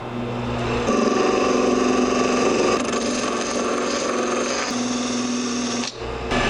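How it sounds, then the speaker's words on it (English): A sandpaper cone spins steadily against a handmade wooden Jitterbug fishing lure, shaping a concave seat for its metal lip, with a loud, continuous whirring grind that shifts pitch as pressure changes, then stops abruptly near the end. "I can sand this down and I should be able to get a nice match between the metal lip and the surface"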